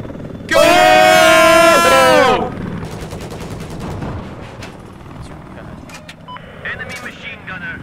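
Machine gun fire in a chaotic multiplayer video game erupts as one loud sustained burst near the start, followed by quieter scattered shots, clanks and engine noise.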